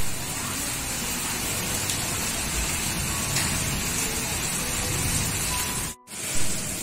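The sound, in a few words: heavy rain falling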